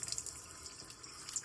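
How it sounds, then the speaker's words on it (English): Cool tap water runs over a lump of freshly made homemade butter in a sink, a soft, steady splashing trickle heard close and fairly quiet, with no talking. "I just want to run some cool water"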